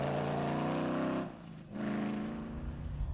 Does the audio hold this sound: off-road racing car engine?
yes